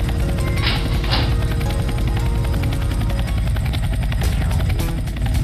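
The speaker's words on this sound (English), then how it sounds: "Get into the helicopter and we'll be out of here for good." Helicopter in a Roblox prison escape game, a steady loud rotor drone that fills the whole stretch with a few sharp whooshing hits along the way, and no one talks over it.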